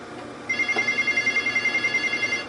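A telephone rings with a continuous electronic trill, fairly close and steady for about two seconds over a low background hum.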